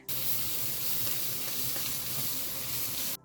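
Sliced onions sizzle steadily in hot oil in a pan, a close, continuous crackling hiss that holds even and loud throughout with no voices.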